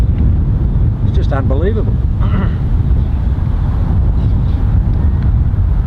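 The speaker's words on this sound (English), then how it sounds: "we're into like a 40-mile-an-hour headwind here" Strong headwind gusting across an outdoor golf practice tee, a loud continuous low roar buffeting the microphone throughout, with someone speaking briefly over it.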